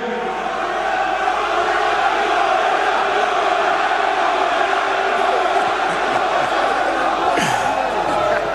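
A boxing event crowd in Cardiff roars continuously and loudly, a dense wash of cheering and jeering that fills the whole stretch without a break.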